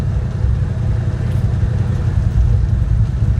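A steady low engine rumble drones throughout, loud and continuous, like a car's exhaust at a constant idle or cruise with no break.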